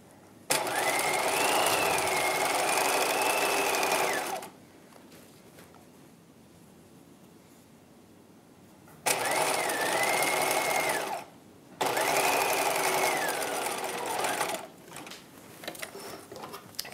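A sewing machine runs a bodice side seam on a 1950s-style halter dress lining in three loud, sustained stitching bursts, with quiet pauses between them.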